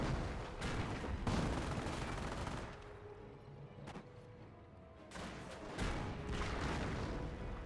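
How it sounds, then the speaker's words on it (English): A short-barreled Panzer IV tank firing in Company of Heroes amid a dense battle, heavy booming shots and rattling gunfire over a constant rumble, with a brief lull before the barrage resumes. "Short-barrel Panzer IV gains some excellent hits there."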